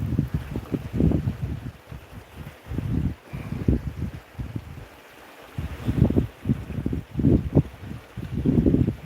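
Wind on a fishing boat comes as uneven, rumbling gusts buffeting close by, rising and dropping in irregular surges with brief quieter gaps.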